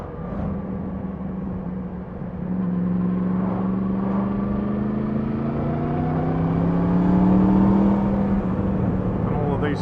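A car cruises along the A65 toward Kendal behind a lorry, its engine drone steady and close inside the cabin, pitch slowly climbing as it gathers speed, with continuous road and tyre noise.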